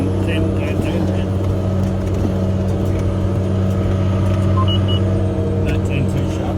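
A farm tractor drives and turns during spring seeding, its engine a steady loud drone throughout, with people talking over it.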